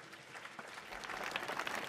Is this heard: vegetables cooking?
no